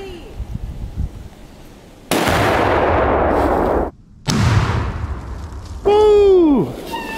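A rifle shot sets off a Tannerite explosive target outdoors at a twin gender reveal, producing a loud, sustained blast with a second burst after a short gap. Voices talk under it, and a whistle-like tone follows.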